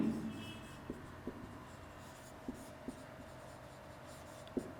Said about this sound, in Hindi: तो हम यहां लिखेंगे मेल्टिंग पॉइंट